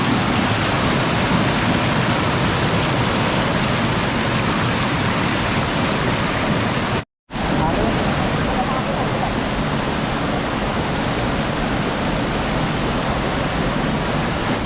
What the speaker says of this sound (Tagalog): mismong talon